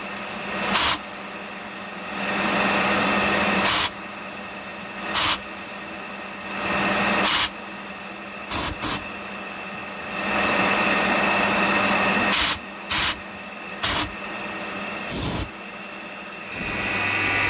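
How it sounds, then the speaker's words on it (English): A milling machine running in a low gear, loud, while center-drilling weight-reduction holes in a steel gear for a 4 1/2 inch Burrell traction engine build, the whirring cut starting and stopping repeatedly with brief gaps. "Reason why the miller seems a little bit louder than usual is because we have it in a lower gear."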